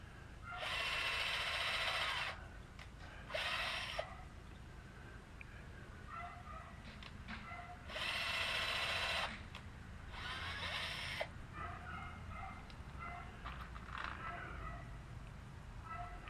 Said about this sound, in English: I think it don't like the noise of that drill very much.